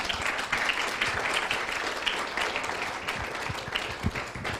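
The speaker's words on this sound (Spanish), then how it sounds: "Denle un fuerte aplauso al Señor." Church congregation applauding during a Spanish-language worship service, a dense, continuous patter of many hands clapping at moderate distance with no speech over it.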